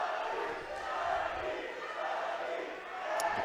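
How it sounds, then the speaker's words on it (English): An arena crowd at a fight event chants for fighter Michael Santiago, a broad sustained roar of many voices rising and falling, with a commentator talking over it. "The crowd already starting their Santi chants"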